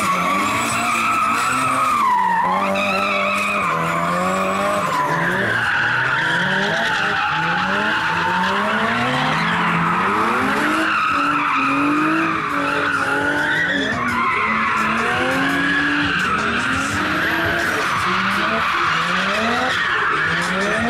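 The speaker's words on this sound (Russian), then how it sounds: "Автомобили для дрифта!" Drift cars at a city-day drifting show in Tolyatti, with tires squealing and skidding continuously under wavering engine revs, loud and sustained throughout.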